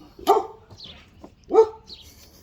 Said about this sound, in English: The dogs say see you too.